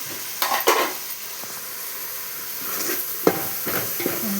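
A spoon stirs thinly chopped tomatoes into a sizzling mutton curry in a pot. A few distinct scrapes and clanks sit over a steady, close frying hiss.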